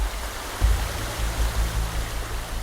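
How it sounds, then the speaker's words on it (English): A small stream of water runs through a rock canyon, a steady broadband rush over a deep low rumble that swells slightly after the first half-second, with no voices. "Even a tiny stream can bite through rock."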